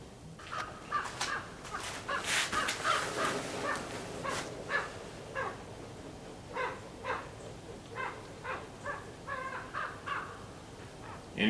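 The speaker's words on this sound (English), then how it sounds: "Incoming Raven." A raven calls with a run of harsh, repeated croaks, loud and close at first, then spaced into shorter calls that carry on over steady background noise.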